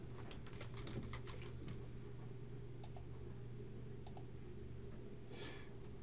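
A username is typed on a computer keyboard as scattered bursts of light key clicks over a steady low electrical hum, faint and close, with no voices.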